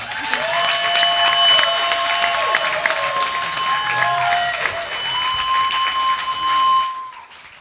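An audience applauds steadily with a few cheers, while sustained electronic tones hum over the clapping; the applause fades out near the end.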